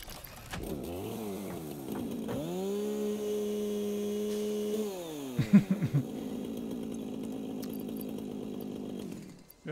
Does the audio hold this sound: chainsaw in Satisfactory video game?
yes